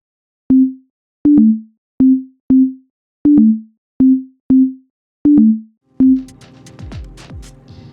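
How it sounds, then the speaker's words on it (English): A synthesizer oscillator's pure, smooth low sine wave tone sounds in a series of short, evenly spaced notes, followed by a burst of scattered clicks and noise. "When I activate an oscillator here, I first get a sine wave."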